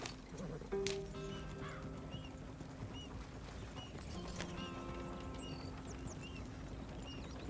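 Horse hooves clip-clop steadily at a walk, with a whinny early on and outdoor ambience around, at moderate distance and no talking.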